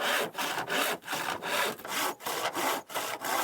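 A hand saw cuts wooden angle supports for a canopy roof, with about ten steady back-and-forth rasping strokes, close and loud, and no voices.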